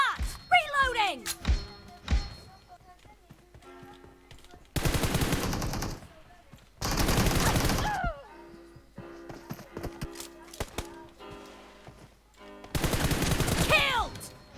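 Automatic gunfire in a shooter video game, three dense rapid-fire bursts each lasting about a second, loud and close, with game voice announcements and other game sounds between them.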